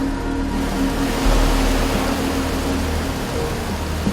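Rough sea surging near a cliffside cave where swiftlet nests are harvested in Indonesia, a continuous close roar of churning water with a low rumbling swell and no voices.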